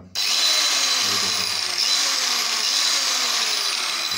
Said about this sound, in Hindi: ये हमने एस एम टी का ग्राइंडर परचेज़ किया है तो ये मैं आपको चला के दिखाता हूँ